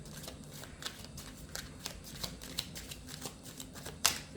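Tarot cards are shuffled and drawn by hand, giving a quiet rapid series of soft riffling and slapping clicks, close and faint, ending with one sharper snap near the end.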